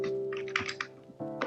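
Computer keys are pressed for Ctrl C and Ctrl V shortcuts, a few quick clicks close by over a steady tonal hum, no voices.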